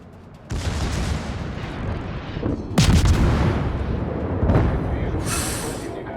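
Ship guns fire in World of Warships from a Russian destroyer, the Okhotnik, in loud deep booming salvos, with several big blasts rolling over one another amid continuous battle rumble.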